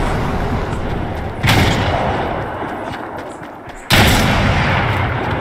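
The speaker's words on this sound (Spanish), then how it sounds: "Vale, ahí el disparo" Two heavy gunshots in a Fortnite match, each a sharp loud crack with a trailing boom, a few seconds apart over a quiet background.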